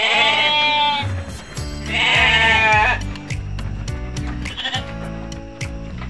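Garut sheep at a goat farm in Bogor bleat loudly and close by, with two long wavering calls followed by a shorter one, over shuffling and knocking livestock noises.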